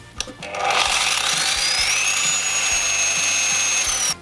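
A GRAND circular saw runs at its lowest speed-regulator setting, spinning up with a short starting clunk into a steady, even whine that holds for a few seconds before cutting off abruptly.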